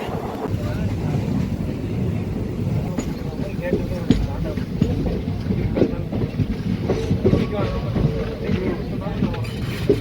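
The Hyderabad Superfast Express rumbles along a single-line track in a steady, continuous roar, with wind buffeting the microphone and a voice speaking over it throughout.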